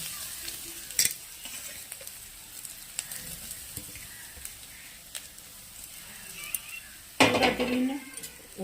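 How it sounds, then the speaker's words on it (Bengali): Coconut frying in hot oil in a pan, a steady soft sizzle punctuated by sharp metallic clinks of a spoon against the pan and a louder burst of stirring near the end. "এবার আমি নারকেলটা এই দেখো নারকেলটা এর মধ্যে দিয়ে দেবো"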